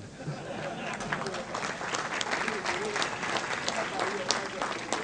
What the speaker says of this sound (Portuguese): que merece pela segunda vez o nosso aplauso